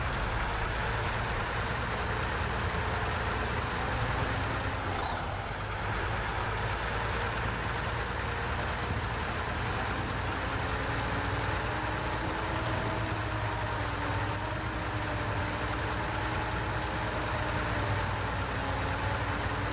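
Truck engine idling in the video game Snowrunner, a steady low rumbling drone with a faint wavering whine, even and continuous for the whole stretch with no talk.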